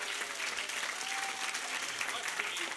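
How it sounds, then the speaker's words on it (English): A game show studio audience applauds the winner with dense, steady clapping at an even level, while voices come through faintly beneath it. "Rusty's our winner. Give him a round of applause,"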